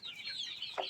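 Free-range village chickens give soft, brief clucks up close over a quiet yard, ending in one slightly louder cluck.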